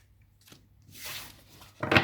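Tarot cards being shuffled and cut by hand, a soft riffling swish in the middle followed by a sharper, louder papery slap near the end, close and quiet with no talking.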